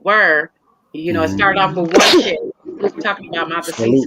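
A single sharp sneeze bursts out in the middle of ongoing conversation, close and loud, with people talking before and after it.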